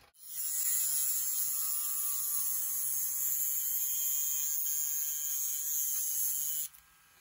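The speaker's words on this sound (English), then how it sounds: "Next, gonna use a Dremel, whatever, any kind of cutter." A Dremel rotary cutter runs steadily while cutting a Tamiya Mini 4WD part, a loud high-pitched whine with a low hum underneath that holds for about six seconds and then stops abruptly.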